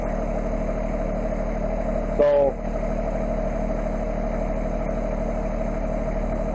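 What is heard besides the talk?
Massey Ferguson 1526 tractor engine running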